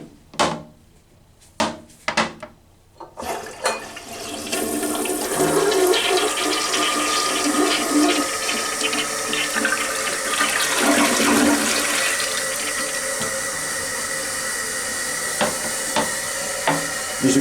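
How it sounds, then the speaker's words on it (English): A Kohler toilet in a Courtyard by Marriott hotel bathroom in Windsor, Connecticut, gives a few clunks of the handle and mechanism, then a loud, close flush that rushes and hisses steadily for over ten seconds. "over here is the commode. It is a Kohler."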